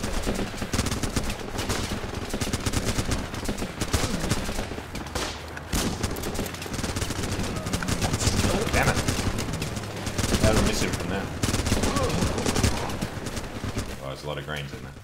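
Continuous battlefield gunfire in the game Running with Rifles, dense overlapping rifle and machine-gun bursts at steady loudness across the whole stretch, with players talking over the shooting.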